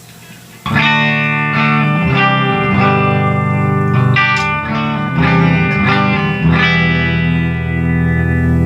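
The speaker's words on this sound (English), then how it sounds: "So I'll play a few chords, a few little notes, and then you'll hear what it is" Electric guitar chords and single notes ring out one after another, effected with chorus-like shimmer and a touch of grit, steady and fairly loud.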